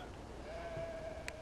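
A sheep in the video game Beyond Two Souls gives a brief, faint bleat over a quiet ambient game background.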